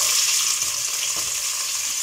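Sliced onions sizzle steadily in hot oil in a pan, a constant close frying hiss with no voices.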